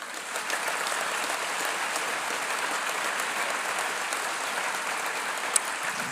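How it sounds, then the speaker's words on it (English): Steady, even applause from a large audience of parents and students at a festival talk with Bernie Sanders, heard from a distance with no voices over it. "I noticed that the parents were actually applauding as loudly as the students"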